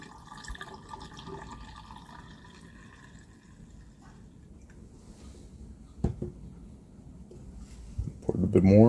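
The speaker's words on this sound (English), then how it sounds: "Pour a little bit more so it overflows a little bit." Water is poured into a container during a Dead Air Sandman S suppressor cleaning, a low steady trickle that swells into a louder gurgling fill toward the end as the container overflows.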